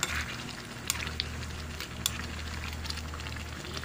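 Coconut milk simmering with banana blossom in a pan, a soft continuous bubbling sizzle with occasional faint ticks and pops, close and quiet with no talk.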